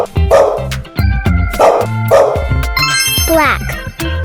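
Cartoon puppy in a kids' coloring game barks and yips repeatedly, loud and close, with a rising whimper near the end.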